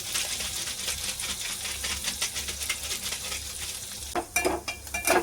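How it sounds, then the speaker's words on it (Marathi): The tempering for a methi dal tadka sizzles in a pan with ghati masala on hand. A close, busy crackle runs throughout with rhythmic stirring scrapes, and a few sharper spatters come near the end. "मस्त आणखी फ्राय करून घेऊया"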